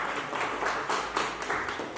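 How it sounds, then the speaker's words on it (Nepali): An audience at a book launch ceremony claps steadily, a dense, even patter of many hands close by that carries on throughout. "कृपया उहाँको लागि जोरदार ताली दिउँ"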